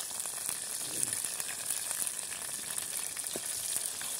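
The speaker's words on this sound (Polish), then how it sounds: "Smażymy sobie skrzydełka, gotujemy skrzydełka kurczaka" Chicken wings fry in a pan over a campfire in the woods, giving a soft, steady sizzle and crackle with faint pops. No one speaks.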